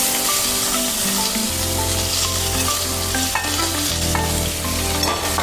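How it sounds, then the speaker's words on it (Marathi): Onion, peanuts, curry leaves and green chili fry in oil for a spicy brinjal bharit, a steady dense sizzle with scraping stirs throughout, close and loud, no talk. "पण कांदा फ्राय करता करता शेंगदाणे होतीलच कढीपत्ता हिरवी मिरची कांदा टाकून घ्या"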